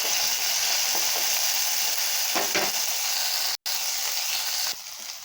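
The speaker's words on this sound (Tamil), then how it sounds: "இது நல்லா வதங்கட்டுங்க." Small onions, garlic cloves and curry leaves sauté in a pan with a constant dense sizzle, a few stirring scrapes, and one abrupt brief dropout midway; no one speaks.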